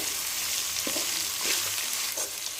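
Lemon rice with coriander being stirred in a hot pan on the stove: soft scraping and sizzling strokes, a few distinct stirs over a continuous gentle fry, close and alone.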